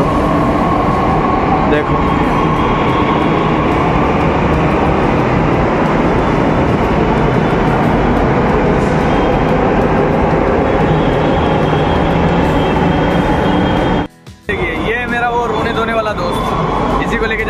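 A Delhi Metro train pulls away from the platform, a loud, steady mechanical roar and hum with air-conditioning noise, someone speaking briefly, and a short abrupt dropout near the end.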